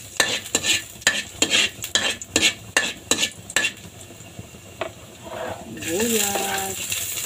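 Garlic tossed into hot cooking oil in a home kitchen while leftover dishes are cooked, with a series of sharp scraping and clinking utensil strokes against a pan over a low sizzle, then a brighter burst of frying near the end.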